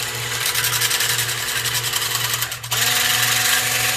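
A blender whizzes mayonnaise ingredients in a continuous loud, close whir. Its pitch shifts briefly and then settles into a steadier, higher hum.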